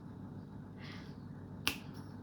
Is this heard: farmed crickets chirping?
no